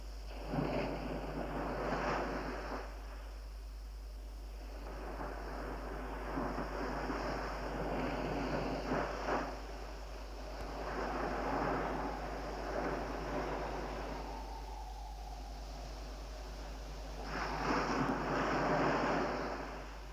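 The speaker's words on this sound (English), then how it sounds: "Wind is blowing out of the dawn." Wind blows across an open camp at dawn, a steady broadband rush that swells into stronger gusts near the start, middle and end, with no voices.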